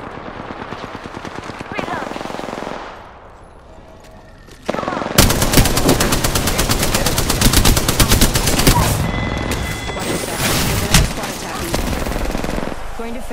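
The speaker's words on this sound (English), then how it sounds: "I am taking fire, friends." Gunfire in the video game Apex Legends, with dense rapid automatic bursts, loud and close, broken by a short lull before a long sustained volley.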